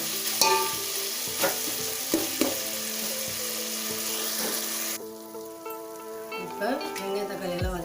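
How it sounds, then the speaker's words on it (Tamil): Vegetables are stirred and sautéed in a pan for vegetable biryani, with repeated spoon scrapes and knocks over a soft frying sizzle, close and fairly quiet, with no talk. "நல்லா இதெல்லாம் போட்டு நல்லா மிக்ஸ் நல்லா வதக்கிக்கோங்க அடி பிடிக்காத வதக்க"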